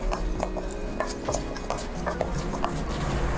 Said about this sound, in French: On va bien le mélanger.